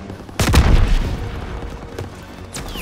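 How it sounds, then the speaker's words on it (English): Artillery shells exploding on a D-Day beach in Call of Duty WWII, one heavy booming blast followed by a rumbling tail and a few fainter distant thuds, with no voices. "They're shelling that beach to shit!"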